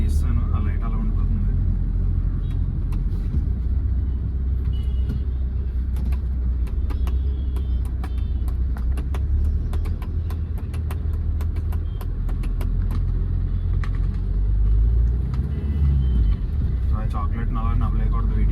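A 2008 Hyundai Verna with a 1.6 turbo diesel engine drives through city streets in Kakinada, heard from inside the cabin as a loud, steady low engine rumble and road drone with faint ticks throughout.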